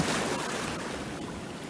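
Waves wash steadily onto a Norfolk beach used for launching fishing boats, a continuous broadband rush of surf with light wind noise on the microphone and no talk.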